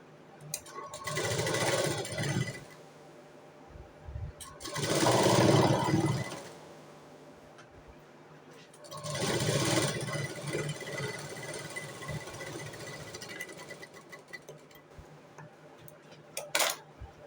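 A sewing machine stitching a box-type cross patti on blouse fabric runs in three separate bursts of steady mechanical whirring. Quiet pauses and small clicks fall between the bursts, and there is no speech.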